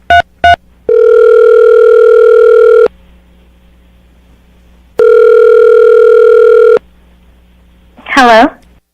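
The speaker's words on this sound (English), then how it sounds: "I'm going to dial the phone number right now" Two quick touch-tone beeps, then a long ringback tone that repeats after a pause, followed by a voice answering.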